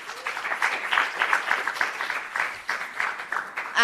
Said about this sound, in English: a big round of applause to our first 4 network partners